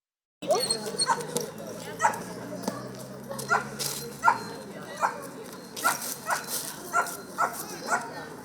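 A drug-detection dog barks and yelps in a rapid, irregular series of sharp barks during a narcotics search exercise with a poppy-straw imitation substance, close by and fairly loud, with people talking in the background.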